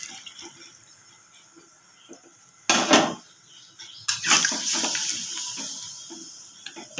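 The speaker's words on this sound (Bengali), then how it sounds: "এবার আমি পরিমাণ মতন জল দিয়ে দিচ্ছি।" Water poured into a pot of browned, oil-releasing meat with potatoes in a home kitchen, heard as two brief splashing bursts, the second trailing into a longer hissing simmer.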